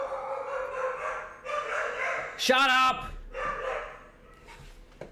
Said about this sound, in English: Damn dogs. They're killing me. The dogs kill me.